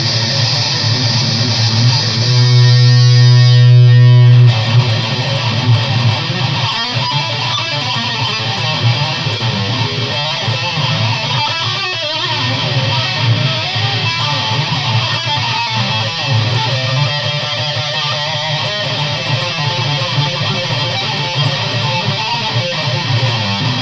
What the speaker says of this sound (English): when you're using that much distortion, it doesn't really matter if you hit all the right notes